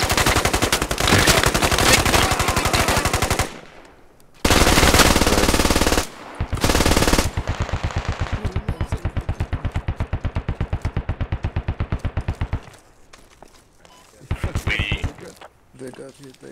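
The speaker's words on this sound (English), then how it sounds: "We're taking fire from the west." Machine gun fire in the military shooter video game Squad, long loud sustained bursts of rapid automatic fire broken by short pauses, then a quieter stretch with a few scattered shots and brief voice chatter.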